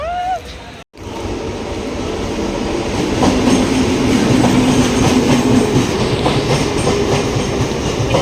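A train pulls into Sarnath station with a loud, steady rumble and rhythmic clickety-clack of wheels on rails, building after a brief gap at the start, with faint voices nearby.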